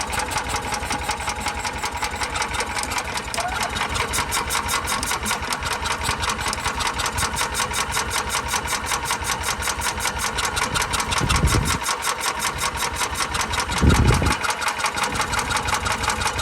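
A Hyundai golf cart's small engine runs at a steady, close, loud idle with a fast even chatter, with two brief louder surges near the end as it revs.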